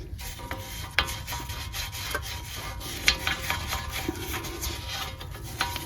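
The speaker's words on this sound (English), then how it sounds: "So now I have my wire brush here. I'll just do a little bit of cleaning inside the hub." A wire brush scrubs sand and dirt from inside the wheel hub of a Volkswagen Tiguan during a wheel bearing job, giving steady close-up rasping strokes with a few sharper scrapes.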